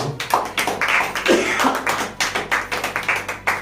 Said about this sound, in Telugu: పిల్లలు చప్పట్లు కొడదామా?